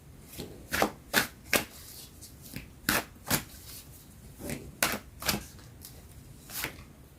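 A deck of tarot cards is shuffled by hand close up, a series of crisp riffling bursts in an uneven rhythm, about a dozen distinct flurries separated by short pauses, with no talking.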